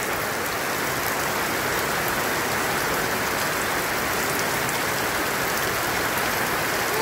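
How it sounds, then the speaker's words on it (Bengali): Heavy rain pouring down in a village, an even, unbroken hiss of countless drops striking surfaces, loud and close with no talk over it. "অনেক বৃষ্টি হইতেছে, অনেক বৃষ্টি"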